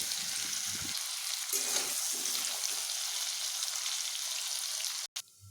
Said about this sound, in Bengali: এবার নুন হলুদ গুঁড়ো গুলো দিয়ে আলুগুলোকে এভাবে নেড়ে আমি একটু ভেজে নেব আলুগুলোকে ভালোভাবে